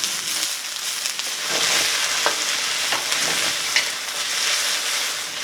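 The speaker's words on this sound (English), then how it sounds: "Add the onion and peppers. I'm going to saute them for about a minute." Onion and peppers sauté in a wok with a steady, close sizzle. Light scraping and stirring taps rise above the hiss now and then.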